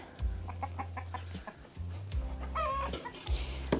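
A hen clucks close by in short repeated bursts, with a louder rising squawk partway through, over low rumbling background noise.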